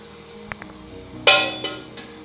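The lid of a container of fermented idli batter coming off, with a soft knock and then a sharp plastic or glass clink followed by two lighter taps, close up in a quiet kitchen.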